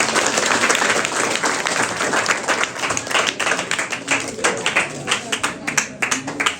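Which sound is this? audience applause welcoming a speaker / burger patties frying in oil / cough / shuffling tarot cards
audience applause welcoming a speaker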